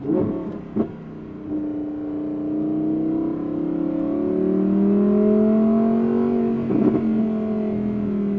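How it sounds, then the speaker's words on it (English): An Audi R8 with its 5-liter V10 and Valvetronic Designs titanium exhaust revs up, the engine note climbing steadily and holding a smooth, loud, rising tone for several seconds, with brief sharp pops near the start and end. "And obviously the pops and cracks are very, very nice as well."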